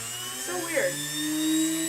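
A small rotary drill bores into a metal ring lubricated with cutting lube, giving a thin high whine with a brief rising sweep in pitch over a steady low hum. The sound is quiet and fairly close.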